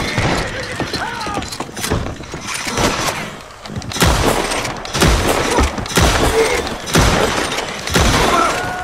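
Repeated gunfire from a gun in Red Dead Redemption 2 Online, sharp shots in irregular bursts, loud and close, with rattling, clattering in-game noise between volleys.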